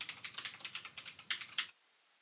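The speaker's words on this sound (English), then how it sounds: "now I have to type it" Rapid typing on a computer keyboard, a dozen or so crisp clicks in quick succession, close and clear, then stopping into silence.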